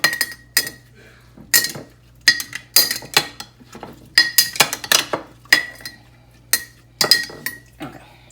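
Spoon clinking against a glass pitcher while stirring red wine sangria with simple syrup, a series of sharp irregular metallic taps and rattles, close and alone.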